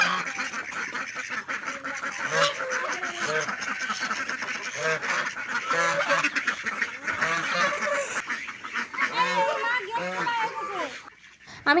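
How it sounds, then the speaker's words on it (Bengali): Domestic ducks call loudly inside a house, with a dense overlapping chorus of repeated quacks that stays busy and close, mixed with occasional human speech. "প্রচুর গরম পড়েছে আর এরা ঘরের ভিতরে ডাকাডাকি করছে"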